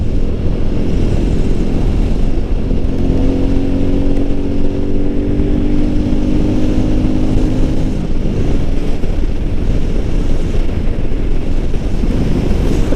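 A Royal Enfield Meteor 350 motorcycle is being ridden, its engine a loud, steady low drone blended with heavy wind rush, holding fairly constant with slight pitch shifts throughout.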